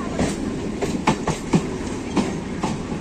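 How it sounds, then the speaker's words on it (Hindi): A crowded Kolkata local train rolls past close by, its wheels beating out a rapid, regular clickety-clack over the rail joints with a steady rumble underneath. "ये देखो कोलकाता का लोकल ट्रेन है"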